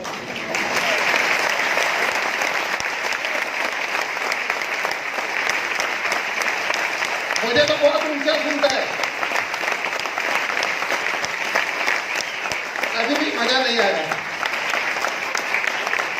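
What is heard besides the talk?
audience applause and clapping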